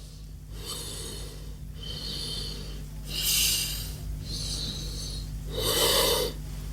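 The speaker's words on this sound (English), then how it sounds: "and same nostril I am inhaling right, exhaling left" Alternate nostril breathing in Anulom Vilom pranayama, heard as steady rhythmic inhales and exhales through one nostril at a time, close and clear, with two stronger, louder breaths standing out among the softer airy cycles.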